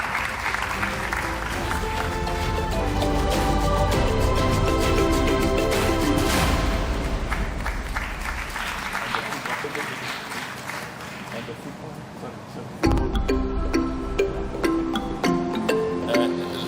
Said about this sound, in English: Can we please clap hands for her?